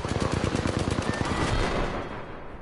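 Rapid automatic gunfire in a video game rattles in a fast, evenly spaced burst, loud and close, then gives way to a fading rumbling tail.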